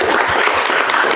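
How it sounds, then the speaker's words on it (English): A meetup audience gives a big round of applause, a dense, steady wash of clapping hands that fills the room for the whole stretch with no voices over it. "big round of applause"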